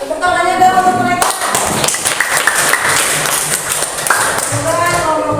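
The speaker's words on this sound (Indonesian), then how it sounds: "tepuk tangannya dong untuk mereka." Applause from a group fills the room after a brief voice, a dense wash of hand claps continuing steadily to the end.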